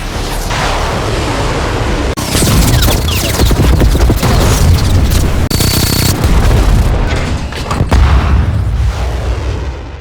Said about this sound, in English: They immediately engaged their own close-in weapon system to protect the Arkansas,